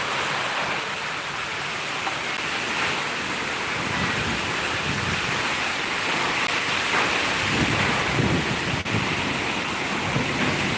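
Heavy monsoon rain in Ratnagiri, Konkan, a loud, continuous roar of downpour with low rumbling swells throughout and no voices.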